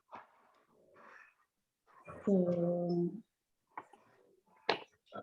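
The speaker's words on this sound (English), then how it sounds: "they're not really growling at each other. That's how they play." Dogs playing tug of war give a low, throaty growl lasting about a second, close but fairly quiet, amid snorts, breathing and brief talk.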